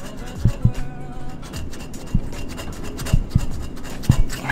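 A razor blade held at an angle scrapes old gasket material off a car part in short, close, repeated rasping strokes with brief pauses between them.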